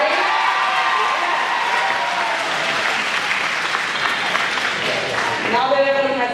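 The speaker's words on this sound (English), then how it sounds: "Now that everyone has had their applause and recognition" A crowd at a Class of 2019 high school graduation ceremony breaks into sustained, loud applause that fills the whole stretch, with scattered cheers mixed in and a voice rising over the clapping near the end.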